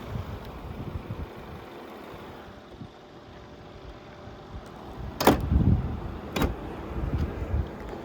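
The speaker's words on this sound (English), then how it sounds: "Let me close the hood back up." Hood of a 2012 Mercedes-Benz S550 slammed shut, a sharp close thump around mid-clip followed by a second knock, set against quiet outdoor background noise.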